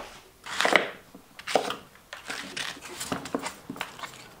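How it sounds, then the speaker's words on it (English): A knife chops cauliflower on a cutting board in a series of irregular, fairly quiet taps and thuds, with a sharper strike near the start and lighter cuts following. "I'm chopping cauliflower"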